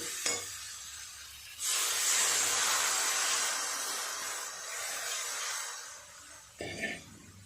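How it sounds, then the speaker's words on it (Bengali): Water poured into a hot pan of spice-fried vegetables for a fish curry bursts into a loud, close sizzle after a quiet stretch, hissing steadily and slowly easing, with a brief clatter near the end. "এবার জল দিয়ে দেব।"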